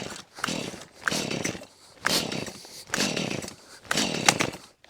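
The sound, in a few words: small engine with choke trying to start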